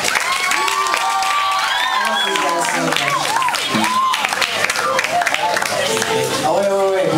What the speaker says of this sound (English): Can we give a round of applause to CeeLo?